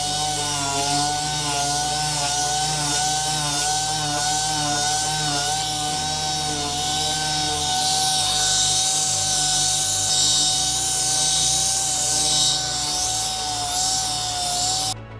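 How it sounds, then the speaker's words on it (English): Continuous harsh grinding and sanding of a metal truck chassis with 60-grit abrasive, a steady loud abrasive whine with shifting pitch, running without pause and no voices. "Here's another 3 hours of extremely fun sanding and grinding condensed into about 15 seconds"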